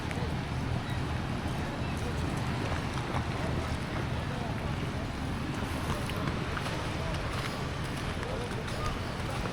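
Constant boat engine drone mixed with heavy wind buffeting the microphone and water rush, loud and unbroken throughout.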